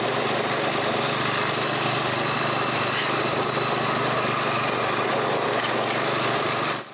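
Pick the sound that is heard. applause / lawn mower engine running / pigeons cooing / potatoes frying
lawn mower engine running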